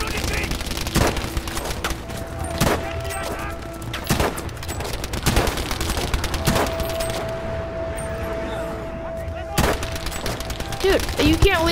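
Rapid bursts of gunfire from a Battlefield match crack out in repeated volleys, loud and close, with sharp individual shots between fusillades while players talk over the action.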